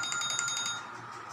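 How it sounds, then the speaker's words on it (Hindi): An alarm tone rings in a short burst of repeated high pulses, fairly loud and steady, fading slightly toward the end with no talk over it. "अलार्म बजा"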